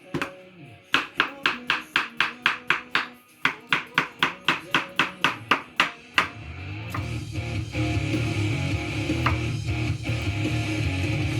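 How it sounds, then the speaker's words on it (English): A knife chops the ends off zucchini on a cutting board in a run of about twenty sharp, evenly spaced thwacks with a short pause midway, followed by a rustling, clattering stretch. "So we're just going to chop off the ends here"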